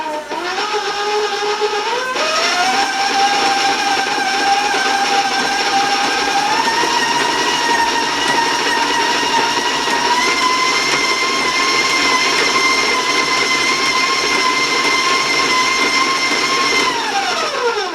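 An electric mixer creams butter with brown sugar, a loud steady motor whine that shifts pitch a couple of times as the speed changes, then runs evenly and winds down at the end.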